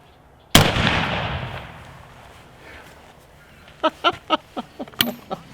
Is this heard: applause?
no